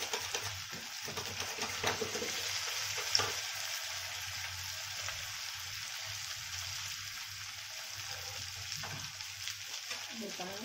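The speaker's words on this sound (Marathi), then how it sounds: "असे दोन दोन करून तळून घेणार आहे" Sabudana vada, two at a time, fry in hot oil with a constant soft crackling sizzle that sounds faint and close, with occasional spatters and a brief knock or stir partway through.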